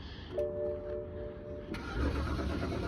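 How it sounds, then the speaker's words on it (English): A 2008 BMW 5 Series xi engine cranks briefly and catches on a jump box, then settles into a quiet, steady idle close by. "Got the jump box hooked up, started right up with a jump, very quiet."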